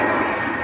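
A Scandinavian Airbus A320 jet roars steadily at Manchester Airport during a brief, loud moment of continuous engine noise.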